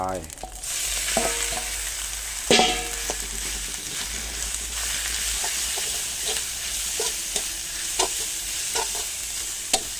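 Rat meat fries in hot oil for a Thai rat curry, a steady loud sizzle running throughout, broken by repeated scraping stirs of a utensil against the pan and one sharper clatter early on.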